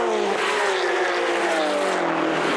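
Porsche 991 Cup race cars brake hard and battle on track, engine notes falling in loud, close sweeping tones as several cars pass together.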